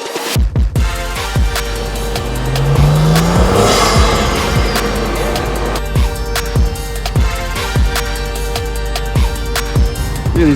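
An Audi RS5, lowered and fitted with a 034Motorsport turbo inlet, cruising on a road, with a steady engine drone, tire and road noise throughout, a brief swelling pass midway, and no talking.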